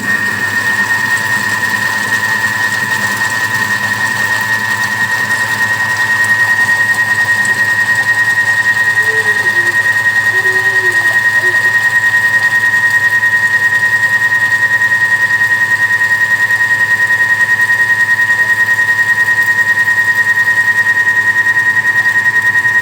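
A Thermomix TM6 food processor mixing cake batter for a Nutella roll at speed 4 gives a steady, unbroken motor whir with a constant high whine, running evenly throughout.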